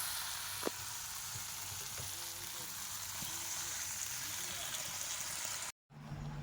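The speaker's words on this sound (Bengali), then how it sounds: "তো এবারে মশলার উপরে মাছগুলো দিয়ে দেবো নাড়াচাড়া করার পরে দিয়ে দেব জল" Pieces of fish frying in spiced masala in a pan, a steady soft sizzle with a few stirring clinks and quiet talk under it, cut by a brief silence near the end.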